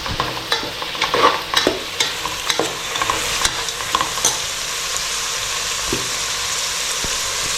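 Tomato frying and being stirred in a pan for soybean and vegetable pulao, with a steady sizzle and irregular scraping stir clicks, busier in the first half and then an even hiss, close and alone.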